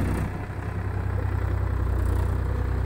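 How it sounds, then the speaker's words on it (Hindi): A Powertrac Euro 50 tractor engine runs steadily while hauling a load of soil over rough ground, a low, throbbing diesel drone held close and constant with no talk over it. "पावरटेक यूरो 50 मट्टी लेके आ रहा है और देखिए किस तरह से मट्टी की खिंचाई कर रहा है।"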